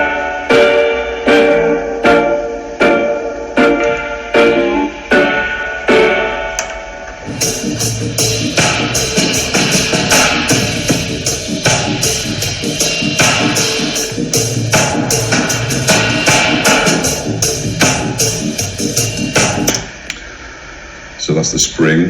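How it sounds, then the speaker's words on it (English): A dub mix runs through a spring reverb with a high-pass or low-pass filter on the spring. Sparse drum hits with splashy, springy tails give way to a dense, steady groove, briefly dropping out near the end. "Now the spring reverb controls let you have a high pass or a low pass"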